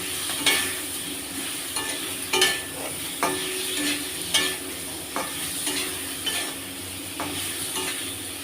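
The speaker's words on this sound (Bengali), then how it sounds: "বেগুনটা একটু নাড়াচাড়া করে নেবো" Brinjal frying in a pan being stirred, a continuous sizzle broken by regular scraping and clinking strokes of the utensil against the pan, about every second, close and clear with no talking.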